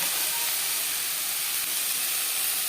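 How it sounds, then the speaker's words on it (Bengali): Chopped onions fry in hot fish fat in a Bengali kitchen, giving a steady, even hiss and sizzle that runs continuously at low-moderate level with no voices. "তিনটে পেঁয়াজ কুচি দু তিন মিনিট পেঁয়াজ হালকা করে ভেজে নেওয়ার পর দিয়ে দেব মাছের তেল"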